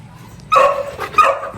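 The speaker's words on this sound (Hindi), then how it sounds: "ये भौंकने वाली अच्छी आदत नहीं है।" A German Shepherd gives two sharp, close barks in quick succession, loud and clear against a quiet background.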